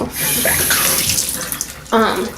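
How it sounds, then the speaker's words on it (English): Warm water runs steadily from a tap into a sink while wool is being washed, a close, loud gushing splash that changes tone briefly near the end. "get the same temperature water that's in here coming out from under there"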